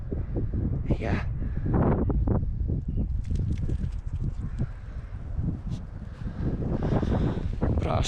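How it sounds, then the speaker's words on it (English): Wind buffets the microphone on an exposed hilltop in Scotland, gusty low rumbling and flutter throughout, with someone talking over it. "I've just climbed up that steep hill, and it is a bit more windy."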